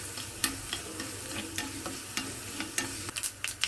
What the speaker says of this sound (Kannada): ಸಾಸಿವೆ ಚಟಪಟ ಅಂತ ಇದೆ.